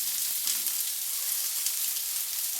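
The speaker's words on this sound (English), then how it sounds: "Once the rabbit's browned on all sides, all the juices have been sealed in, I'm going to add them to the final cooking pan." Browned rabbit pieces sizzle in a cooking pan, a faint steady hiss and crackle with no voices over it.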